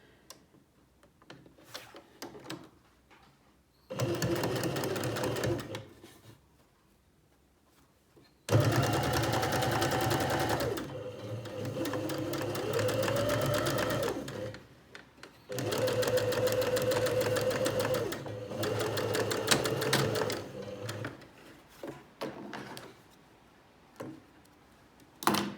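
A sewing machine stitches a tote bag seam in several bursts of rapid mechanical whirring, each run starting and stopping abruptly with quiet pauses between them, close and loud with no talking.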